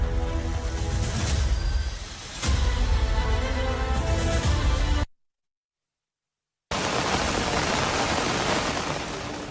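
Heavy monsoon rain falls as a dense, loud hiss that swells and dips, then cuts out to silence for a moment before the downpour resumes. Nobody speaks.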